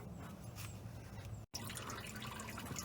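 Coolant draining from a disconnected lower radiator hose on a Ford F100, a steady liquid trickling and dripping sound under continuous background noise.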